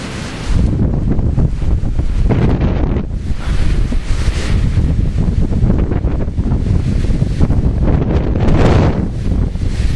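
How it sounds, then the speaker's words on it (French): Strong coastal wind roars and buffets the microphone nonstop, with surf and breaking waves rumbling beneath it, loud and close throughout. "Incroyable ce vent."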